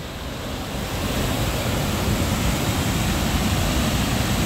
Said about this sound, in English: From in here, you can see the waterfalls.